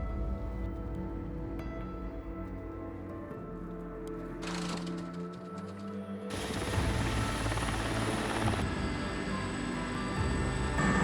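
A helicopter carrying ground troops to a remote wildfire line on a mountain flies past, its steady rotor thump and engine whine growing louder partway through as it comes nearer.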